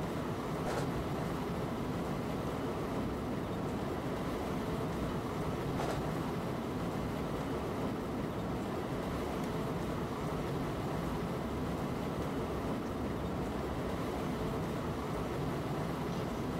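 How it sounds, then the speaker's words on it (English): A Metronom regional train runs on the Hamburg–Hanover line in Train Simulator 2015, giving a steady low rumble with faint periodic wheel clicks, continuous and even throughout with no talk. "Train's wobbling well."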